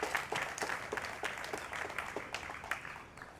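An audience at an International Yoga Day event gives a round of applause, many hands clapping steadily at moderate distance, fading slightly toward the end.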